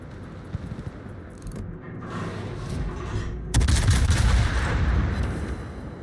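The Des Moines heavy cruiser fires its guns in a naval video game: after a quiet stretch of light clicks, a loud salvo booms out midway and a heavy rumbling roar trails after it.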